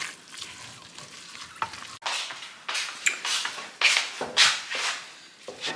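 Minced meat fries in a pan on a stove for pasta sauce, a steady close sizzle broken by repeated scraping stirs that swell into louder hissing bursts.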